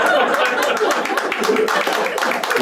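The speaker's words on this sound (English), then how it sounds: "You can clap. You can clap. No problem." A stand-up comedy audience claps in a dense, steady burst of applause mixed with scattered chuckles, loud and close for a couple of seconds.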